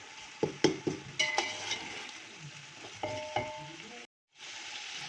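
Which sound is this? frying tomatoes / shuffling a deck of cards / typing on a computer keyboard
frying tomatoes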